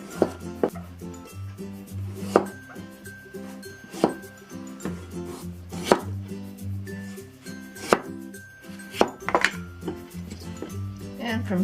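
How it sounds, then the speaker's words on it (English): A knife cuts winter melon into big chunks on a cutting board in a home kitchen, giving a series of irregular, close thuds and taps with a steady tonal sound in the background. "I'm going to cut it in big chunks and remove the skin."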